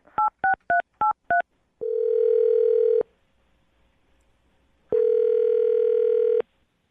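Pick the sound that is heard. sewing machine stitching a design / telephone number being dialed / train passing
telephone number being dialed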